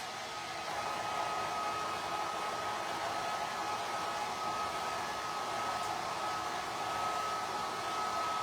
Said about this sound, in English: Let me hit this with the hairdryer.